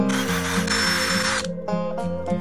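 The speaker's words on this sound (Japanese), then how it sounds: "大体の位置はマークして、ドリルで掘ります。" A power drill whirs loudly in steady bursts while drilling into a plastic plate, its pitch dipping briefly as the bit bites in, with a rattling, grinding edge.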